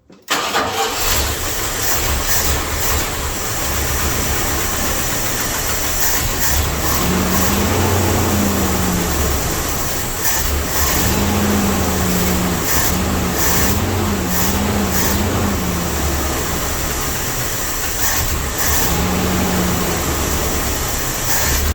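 A Dodge W300 truck engine runs loud and close while misfiring on three or four cylinders, a rough uneven idle with lumpy surging pulses that rise and fall throughout, without any talk.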